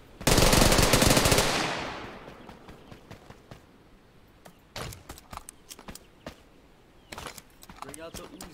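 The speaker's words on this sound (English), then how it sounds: "Bring out the Uzi!" Uzi submachine gun firing a rapid, loud sustained burst up close for about a second and a half, decaying into a ringing tail, followed by scattered clanks, footsteps and brief voices.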